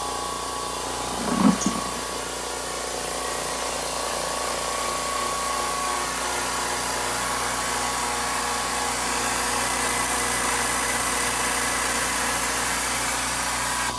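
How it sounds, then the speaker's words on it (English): A California Air Tools air compressor switches on with a brief thump and then runs at a steady, even hum for the rest of the time, constant and moderately loud with no talk. "let's go ahead and turn on my compressor, California Air Tools."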